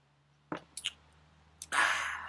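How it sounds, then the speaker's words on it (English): Close mouth sounds of someone chewing a thick smoothie of bananas, dates and water: a few soft wet clicks, then a louder slurpy, squishy burst toward the end, with no talking. "Chewing that juice, or chewing the smoothie rather."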